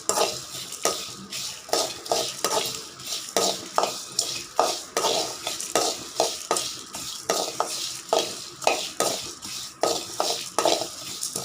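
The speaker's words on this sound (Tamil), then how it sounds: "இது நல்லா வறுக்கட்டு பொரியுது பாருங்கள்" Sesame seeds and dried chillies roast in a pan for Nellore-style puliyodhara, stirred with a utensil in quick, rhythmic scrapes and clinks over a soft crackling sizzle, close and steady throughout.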